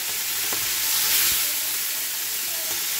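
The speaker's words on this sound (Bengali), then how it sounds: "মাছটা ভেজে নিচ্ছি" Fish fries in hot oil tempered with black cumin seeds, giving a steady, close sizzle with bright hiss and faint occasional taps from the pan, heard alone without talk.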